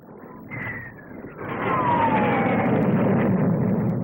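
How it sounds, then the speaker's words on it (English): A Gloster Javelin all-weather jet fighter, powered by two Armstrong Siddeley Sapphire turbojets, flies past at the 1957 Farnborough air display. A loud, broad roar swells and holds while a whining tone slides downward as it passes. "The Gloucester Javelin all-weather fighter, powered by two Armstrong Siddeley Sapphire turbojet engines."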